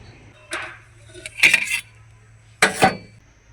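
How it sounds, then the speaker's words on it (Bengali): A metal spatula lifts chita roti off a hot tawa, giving three short, close metallic clinks and scrapes with quiet pauses between them and no talking. "তো এখন খুন্তি দিয়ে আমি এক সাইডে তুলে নেব আর হাত দিয়ে ফোল্ড করে নেব।"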